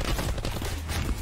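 Gunfire in the battle royale game Call of Duty Black Ops 4 Blackout, dense rapid shots running continuously through the whole moment at fairly low level, with no talk.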